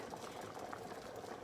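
A pot of water at a rolling boil on a kitchen stove while lasagna soup is made, a faint, steady bubbling hiss with soft irregular pops, close by and continuous.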